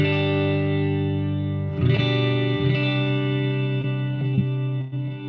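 Electric guitar run through a dual swell patch on a Headrush multi-effects rig, a sustained, heavily processed chord that holds, shifts into a new voicing partway through, then fades out.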